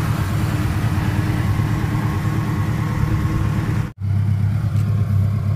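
A ported 1000cc engine in a white 1991 Suzuki Katana 4x4 idles close by with a steady, loud, low rumble. The sound cuts out briefly near the end, then resumes.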